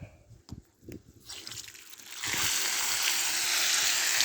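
After a couple of soft knocks and drips, water starts gushing from a water tank's tap and keeps running in a steady, loud hiss.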